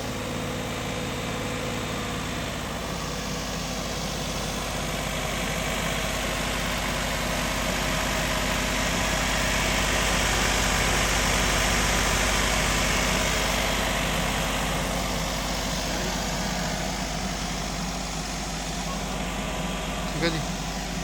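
A Maruti Alto car engine idles steadily and evenly, a constant low hum with a faint rattle running throughout, heard up close.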